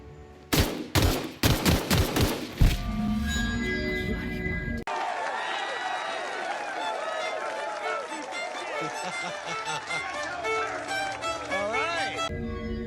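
Gunfire in The Outer Worlds video game: a rapid burst of loud shots up front, then a sustained stretch of crackling, swirling game effects and background noise, with voices speaking in places.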